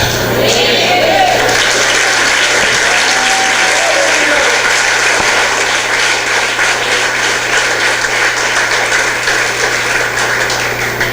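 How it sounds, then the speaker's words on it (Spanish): A church congregation applauding at the close of a sermon, a dense, loud, steady wash of clapping that continues without a break through the whole stretch. "Aplaudieron"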